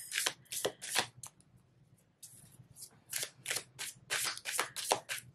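A deck of oracle cards being shuffled in bursts, crisp riffling and slapping of card stock, close and clear, with a short pause before the shuffling resumes in quick repeated strokes.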